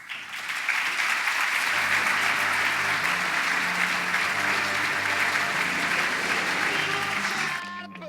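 Sustained audience applause welcoming a keynote speaker onto the stage, a dense steady wash of clapping from a large crowd that swells in quickly, holds for several seconds and tapers at the end.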